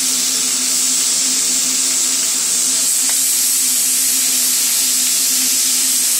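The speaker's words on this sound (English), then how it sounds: "we're going to sear these steaks real quick before we drop them in the oven" Steaks sear loudly in a hot pan, a steady bright sizzle and hiss of fat and steam running continuously and close up, with no talking.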